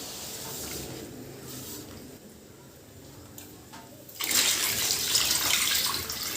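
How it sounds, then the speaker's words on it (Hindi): Water poured into a cooking pot while preparing Pakistani party food, a steady close splashing stream that grows louder and fuller partway through. "उसमें पानी डाल दिया हमने।"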